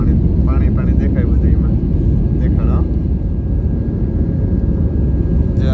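A loud, constant roar of airplane engines fills the cabin, with a few brief voices chattering over it early on.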